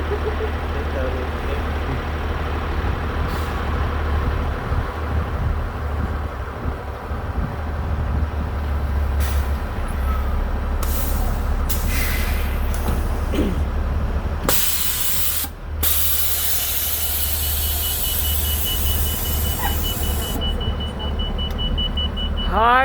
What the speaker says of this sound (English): I got on one of the natural gas buses today.